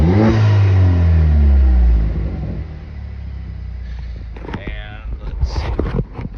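A warmed-up 2019 VW Jetta engine revs loudly near the microphone, the exhaust note dropping to a lower idle rumble before a person starts talking.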